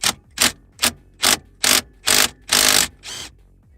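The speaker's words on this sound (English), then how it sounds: "I'm using a 1/2-inch 14mm socket." A 14mm socket on a ratchet undoing a car steering wheel bolt: eight sharp, evenly spaced bursts of ratcheting clicks, close and loud, the later strokes longer and the last one softer, with silence between.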